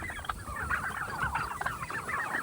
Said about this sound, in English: we're in here with baby turkeys